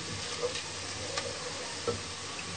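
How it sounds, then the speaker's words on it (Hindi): Whole garam masala and cumin seeds fry in a pan with lightly browned onions for Pakistani daal mash, giving a faint, steady sizzle broken by occasional small ticks and pops. "अब हम साबुत गरम मसाला, इसमें जीरा डालेंगे। इसको हल्का सा फ्राई करेंगे।"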